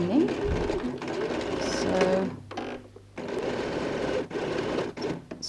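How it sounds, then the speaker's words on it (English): Sewing machine stitching the quilted lining of a toiletry bag, a close, busy mechanical whir that runs in bursts with brief pauses, and a voice speaks one short word at the start. "We're now sewing on the bottom of the lining."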